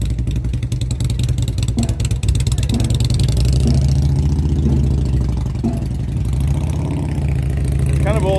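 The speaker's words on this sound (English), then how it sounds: "Oh, some people are already riding off" Several motorbikes idle and rev nearby at a summer gathering in Gorky Park, a steady rumbling chorus of engines with throttle blips as some riders pull away, while people chatter over the noise.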